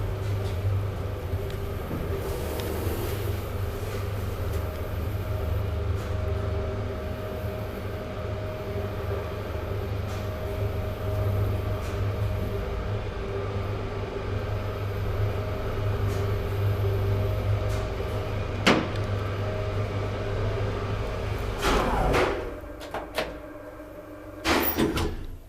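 An old Kone traction elevator in a 1902 building in Norrköping, Sweden hums steadily with a low motor drone, then ends its run with a few mechanical clunks and door thuds near the end.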